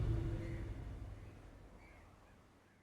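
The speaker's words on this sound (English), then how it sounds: "Crows are fickle things." Crows caw in the dark fantasy video game Darkest Dungeon, a couple of harsh calls fading away under a low rumbling ambience that gradually quiets.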